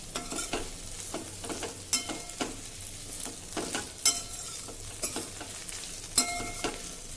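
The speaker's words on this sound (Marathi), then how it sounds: "दोन 3 मिनिटांसाठी आता हे असं छान परतत राहू, म्हणजे खूप खमंग हे कोंडवडे होतील." Kondavade tossed with coarsely ground roasted peanuts in a wide heavy-bottomed pan, giving a soft sizzle broken by repeated sharp scrapes and clinks of the spatula at an irregular stirring rhythm, close up.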